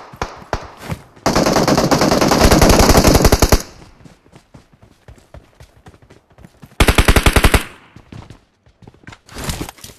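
Automatic gunfire in a PUBG Mobile battle comes in loud sustained bursts, two long rapid volleys separated by scattered single shots, with further shots trailing off near the end.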